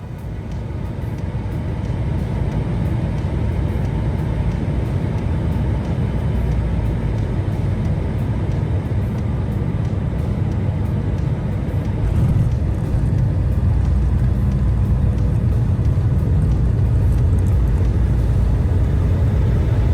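Alaska Airlines airliner taxiing to the gate at LAX after landing, heard from inside the cabin as a steady, loud low engine rumble and road-like hum running unbroken throughout with no talk.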